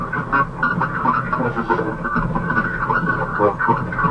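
A train announcement from a broken speaker, pitched down an octave, gives a muffled, lo-fi walkie-talkie garble of a voice, steady and close with no clear words.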